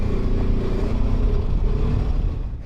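A BMW F 450 GS adventure motorcycle accelerates under a rider, its engine a steady, loud, close droning rumble with rising harmonic tones and wind noise, with no talk.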